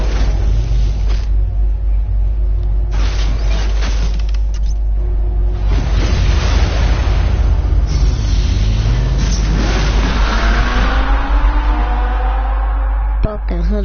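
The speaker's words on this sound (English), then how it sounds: "that sounds like a fast car" Fast car engine in Batman: The Telltale Series, a sustained loud roar with rising, revving pitch sweeps and whooshing motion, ending in a sharp thump.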